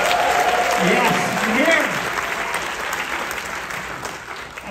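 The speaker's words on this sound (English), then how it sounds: "Give me a round of applause." Audience applause for a comedian performing on a Royal Caribbean cruise ship, a broad clapping wash that fades gradually while someone talks over it.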